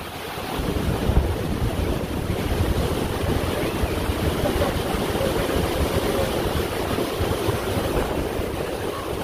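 Strong wind roars in the outdoors of Yosemite, a loud, continuous rush with heavy gusty buffeting on the microphone, steady for the whole stretch with no voices.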